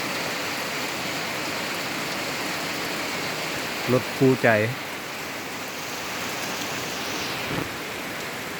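Steady heavy rain hissing across the whole clip, with a man's short spoken words briefly cutting through midway.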